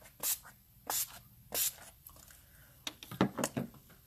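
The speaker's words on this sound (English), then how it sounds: "Let's finish with some Oil Strike setting spray." Oil Strike makeup setting spray is pumped from a bottle in several short, close hissing bursts: three spaced spritzes, then a quicker cluster of sprays near the end.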